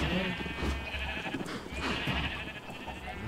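A blocky Minecraft sheep gives a couple of short bleats in a Java Edition world, moderately loud against a faint background.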